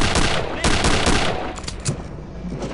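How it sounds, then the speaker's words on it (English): The Venom rotary gun in Return to Castle Wolfenstein fires loud, rapid automatic bursts, a harsh continuous roar of gunfire that tapers off near the end. "It's a venom gun"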